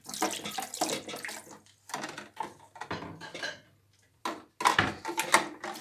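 An item is rinsed under a running kitchen tap, water splashing in uneven bursts with brief pauses and clinks of dishes, close and fairly loud.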